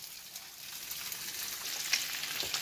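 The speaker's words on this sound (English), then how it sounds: "Bacon's getting done." Bacon frying in a pan at home, a steady dense sizzle with crackling pops rising slightly in intensity, heard close and alone without any talking.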